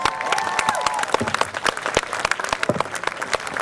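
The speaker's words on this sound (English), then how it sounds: "We want to give them a big round of applause." Crowd at an outdoor political rally claps and cheers, sharp individual hand claps standing out close by over a thinner spread of applause and a few raised voices, tapering slightly toward the end.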